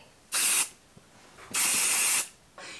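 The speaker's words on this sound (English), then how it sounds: "Actually, I haven't used the hairspray. Let's just use it right now." Marc Anthony silicone-free hairspray hisses from an aerosol can in close, loud bursts: a short spray, a longer spray, then a third beginning just as the sound ends, with quiet pauses between.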